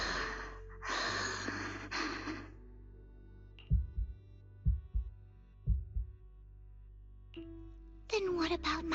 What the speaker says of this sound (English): Then what about my racing heartbeat?